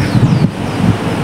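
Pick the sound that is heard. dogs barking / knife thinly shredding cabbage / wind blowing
wind blowing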